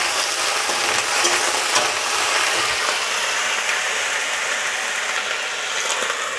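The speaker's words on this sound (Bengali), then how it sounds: "আমার কুমড়োর ডাটাটা ভাজা হয়ে এসছে" Pumpkin stalks fry in a pan for a vegetarian potato dish, giving a dense, continuous sizzle with scraping stirs throughout, close up and unbroken by voices.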